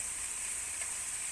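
Anjal king fish pieces coated in masala fry on a tawa with a steady, close, bright sizzle and hiss that holds evenly throughout.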